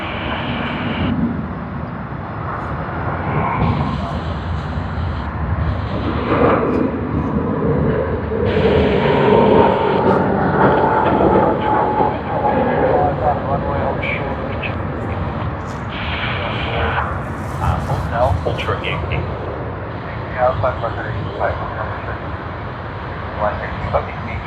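A brand-new Malaysia Airlines Airbus A330-900 jet at Sydney Airport makes a broad, rumbling engine roar that swells and fades over many seconds, with people talking over it.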